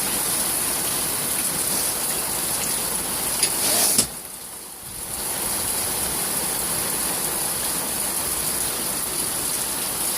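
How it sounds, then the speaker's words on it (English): Heavy rain falls in a steady, dense hiss during a thunderstorm. It drops out briefly for about a second near the middle, then returns just as strong. "it's raining hard"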